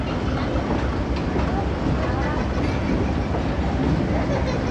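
The 15 Up Karachi Express pulls slowly and smoothly out of Multan station, a steady rolling rumble of wagons with faint rhythmic clatter, continuous and moderately loud.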